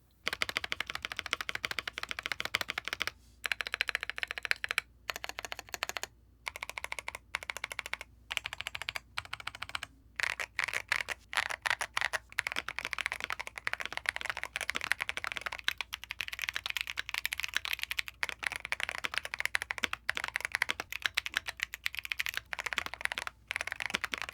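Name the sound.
mechanical keyboard typing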